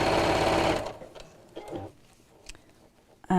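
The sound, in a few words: sewing machine stitching a drawstring box bag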